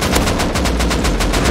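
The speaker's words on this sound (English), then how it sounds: "Is that you, Hazzy, that I'm shooting at?" Rapid automatic gunfire in the video game Rust, a loud close stream of evenly spaced shots that fills the whole clip with no pauses and no talking.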